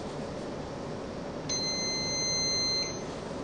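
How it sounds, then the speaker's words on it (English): A single multimeter continuity beep, steady and high-pitched, sounds for just over a second against a soft background hiss while testing the conducting side of glass. "the beep tells us that that is the conducting side of the glass"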